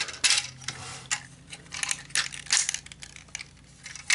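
Plastic parts of a Titans Return Optimus Prime figure being folded and bent, giving a string of close, crisp clicks, scrapes and crackly rustles in irregular bursts, with no voices.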